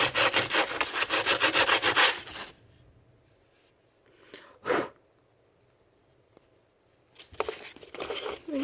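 Sandpaper rubs rapidly back and forth over a Goatguns SVD model gun, loud and close for a couple of seconds, then quiet handling and a brief scrape before the rhythmic sanding resumes.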